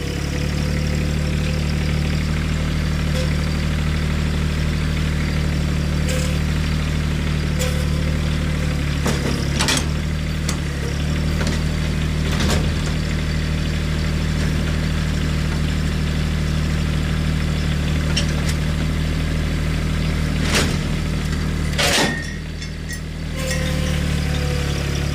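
A tractor engine idles steadily with a low, even rumble, plus a few faint clicks and knocks in the background.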